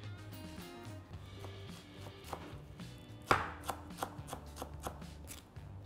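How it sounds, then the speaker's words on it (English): A bunch of flat leaf parsley is finely chopped with a knife on a board, giving a run of quick, close, crisp knife taps with an irregular rhythm and one louder strike partway through. "So I'll just bunch this up and chop this up real fine."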